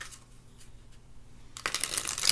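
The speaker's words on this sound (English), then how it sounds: "we're going to shuffle some more for Taurus" A deck of tarot cards is shuffled nearby: soft riffling at first, then a dense, louder burst of rapid card flutter in the final second, with no talk.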